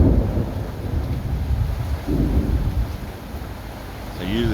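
Low rumbling thunder rolls in the distance amid steady rain, building to louder crackling peaks.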